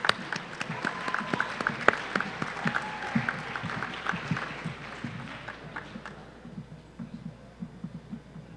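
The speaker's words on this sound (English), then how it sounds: "Let's give them all a round of applause." A high school yearbook ceremony audience claps in a hall, a moderate scattered round with distinct individual claps and a low background hum, tapering off after about six seconds.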